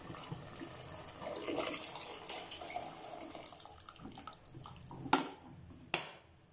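Hot water from a kettle poured onto rice in a pot, a steady gurgling pour heard close, ending with two sharp clinks of metal.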